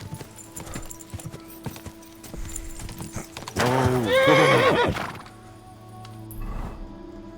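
Horse in the Kingdom Come Deliverance 2 video game, with hooves clip-clopping at a walk before a loud, drawn-out neigh, then quieter hoof steps.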